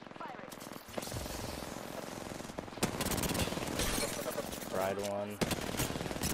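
Gunfire in Apex Legends, rapid automatic bursts crackling over a dense battle din, with a voice speaking over the shooting and tonal game effects near the end.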